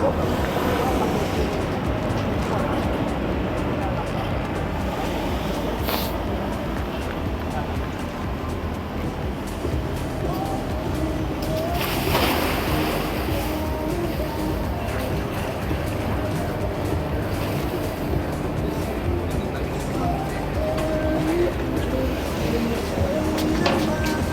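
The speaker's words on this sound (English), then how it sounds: "So now Mitsubishi is going to show off its water wading abilities." Mitsubishi Xpander wading through flood water, a steady broadband rush of churning water and engine noise lasting throughout, loud and close, with voices talking over it.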